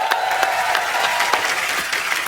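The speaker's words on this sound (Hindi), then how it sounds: "इनके लिए भी जोरदार तालियां।" An audience applauds in a television comedy show studio, a short, even burst of dense clapping that carries through without a break.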